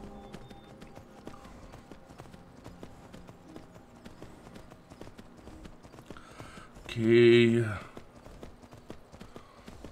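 Horse hooves clip-clopping at a steady trot in the video game Skyrim, a continuous light rhythm under a voice, with a brief loud in-game shout near the end.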